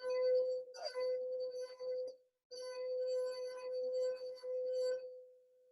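A glass partly filled with water rings a pure, sustained note, probably from a rubbed rim, with a brief break midway before it sounds again, its tone steady with faint squeaky overtones and no speech.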